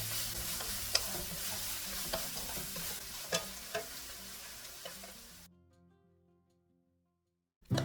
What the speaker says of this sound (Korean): 여기에 청음고추, 통깨 1큰술, 참기름 1큰술 섞어서 맛있는 꼴뚜기 볶음을 완성합니다.